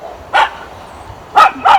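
A dog barks three times close by, one sharp bark followed after a pause by two quick ones, against a quiet background.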